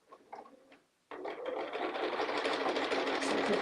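A sewing machine stitches a quilt block, starting abruptly after a short quiet moment and then running steadily and close, a continuous fast mechanical whir.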